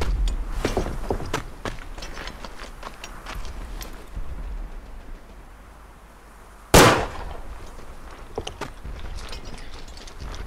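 8mm revolver shots in the Verdun World War I video game, with scattered sharp cracks amid ambient battlefield noise and one loud, close shot standing out about two-thirds through.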